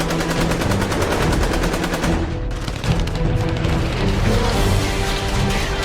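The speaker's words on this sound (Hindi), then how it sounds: "अभिमन्यु की 3 की गिनती पर उन्होंने फायरिंग चालू की" Dense machine-gun fire in a dramatized counter-firing scene, rapid continuous bursts of shots rattling loudly without pause for several seconds, with a brief dip in the barrage midway before resuming at full intensity.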